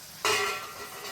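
Chopped tomatoes tipped into a hot pan of frying Chettinad-style prawn gravy set off a sudden loud sizzle that rises and then settles into a steady, softer hiss.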